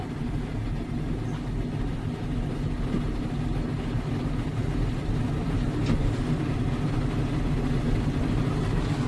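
A 1995 snowmobile engine idles steadily and smoothly with no squeaks or squeals, a continuous low rumble close by, alone and unbroken with no talking.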